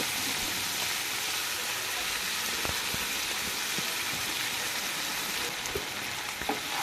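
Drumstick leaves hit a hot pan with chillies and garlic, sending up a steady, broadband sizzle that holds for several seconds, with a few faint clicks of a utensil near the end and no talking.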